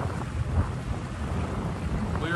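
A fishing boat idles in shallow water over limestone rock on the windy Gulf of Mexico during redfish tournament practice. A steady low engine rumble runs throughout, mixed with constant wind buffeting the microphone.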